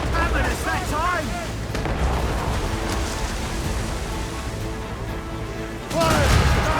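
Ship cannon fire in Assassin's Creed Rogue, heavy rumbling booms in a naval battle with shouting voices over the din, ending in a louder blast.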